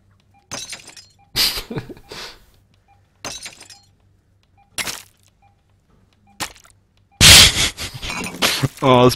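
Glass shattering in a surgery video game, with several sharp crash-and-crack bursts scattered among gaps and a loud, dense shattering near the end. Game sound effects play with no talking over them.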